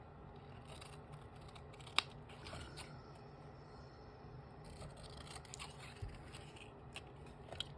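Scissors snipping angles in a craft piece, scattered quiet close cuts with a sharper snip near the start and a few more toward the end, over a faint background hum and no talking.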